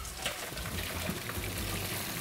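Freshly boiled green beans are drained and rinsed under cold running water, a steady, soft splashing wash heard fairly faintly and evenly throughout, with no talking.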